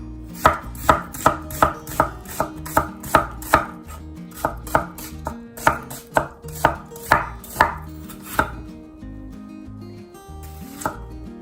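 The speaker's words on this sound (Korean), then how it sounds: "양파를 손질해 보겠습니다." A knife chops an onion steadily on a cutting board, a quick regular run of sharp knocks that slows and trails off near the end, with no talking.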